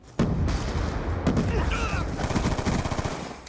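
Rapid automatic gunfire from a weapon in the shooter game Call of Duty: Black Ops 2, a loud sustained burst of closely spaced shots with a few heavier booms, running continuously for several seconds without talk.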